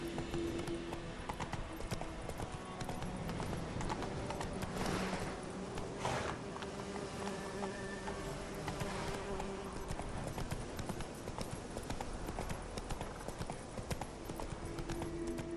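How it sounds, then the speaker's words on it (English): Horse hooves clip-clop steadily in The Witcher 3 video game, a continuous, fairly close rhythmic beat of a mount moving along, with faint game ambience underneath and no talk. "Whoa there, Roach."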